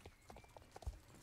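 Horse hooves clip-clop in a brief, uneven rhythm as a rider trots across the ground in the video game Star Stable, quiet and close with light background noise.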